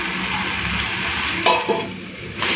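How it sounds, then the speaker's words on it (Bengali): Jackfruit and potato with spices fry in a pan, giving a loud steady sizzle with a couple of brief stirring scrapes. "তো মশলার সাথে এঁচোড়ার আলুটাকে ভালো করে কষে নিচ্ছি"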